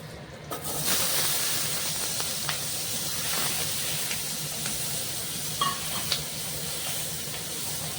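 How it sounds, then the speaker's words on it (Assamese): Spice paste fries in butter with cardamom, clove and cinnamon for butter chicken, giving a loud, continuous hissing sizzle up close, broken by occasional scrapes and taps of the spoon as it is stirred. "মই পেষ্টখিনি অলপমান মানে ৰঙাকৈ ভাজি ল'ম"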